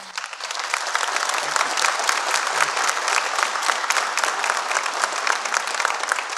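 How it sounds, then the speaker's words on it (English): Audience at a school Celebration of Praise event clapping together, a dense steady wash of applause that stays even and moderately loud throughout, without speech. "So please give them a round of applause."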